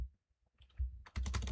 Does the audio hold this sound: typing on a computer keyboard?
yes